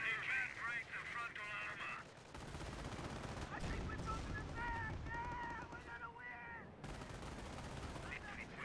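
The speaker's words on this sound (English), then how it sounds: "Panther here, getting some good hits on the rifleman squad." A Panther tank fires in a Company of Heroes match, its heavy shots mixed into dense battle gunfire and explosions that run loud and steady. Voice-like game chatter sits under the noise, with a brief drop near the end.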